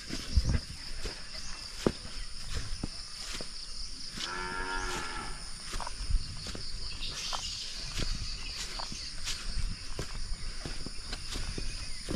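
A water buffalo (carabao) gives a long low moo midway through, over steady crickets and scattered rustling and footsteps outdoors in the Philippine countryside.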